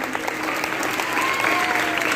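Loud, continuous applause from a crowd at a church convention, dense clapping throughout with some voices mixed in underneath.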